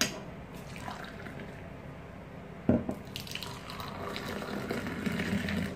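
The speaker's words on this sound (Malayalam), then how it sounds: "നമുക്ക് നന്നായിട്ടൊന്ന് ആറ്റണം" Sweetened tea is poured back and forth between a glass and another vessel to froth it, a continuous liquid splashing stream with a sharp clink partway through, no talking.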